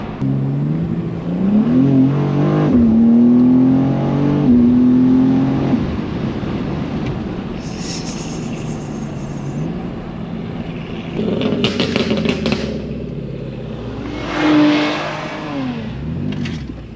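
A BMW G87 M2 drives on back roads, its engine revving and pulling through gears with rising and falling pitch, heard from inside the car, steady and fairly loud with tire and wind noise and no speech.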